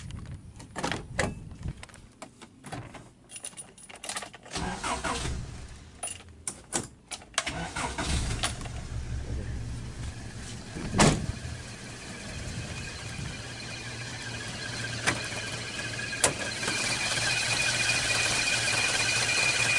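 Clicks and clunks, then the petrol engine of a 1995 Isuzu Trooper cranks and catches, settling into a steady, smooth low idle that hums on for several seconds.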